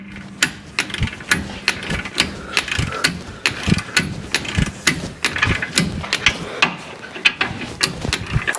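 A ratcheting wrench clicks rapidly and steadily at close range while tightening leaf spring bolts on a 2018 Chevrolet Colorado during a 2-inch lift kit install.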